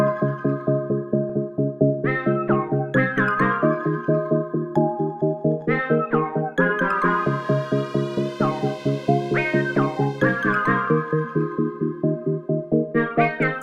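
Bright synthesizer plucks play a bouncy melody over steady chords, each note short and rhythmic, with a shimmering higher layer swelling in midway.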